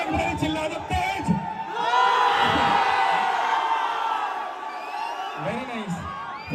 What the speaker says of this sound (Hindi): भाई सुनो, एक मिनट चिल्ला दो तेज।